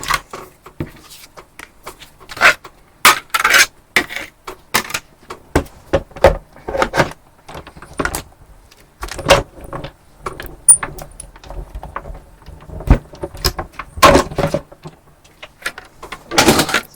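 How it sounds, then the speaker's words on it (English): A manual die cutting machine cranks card through its rollers, a run of close, loud clicking and clunking mechanical bursts in an uneven rhythm, with no speech. "then we'll just run it through the die cutting machine"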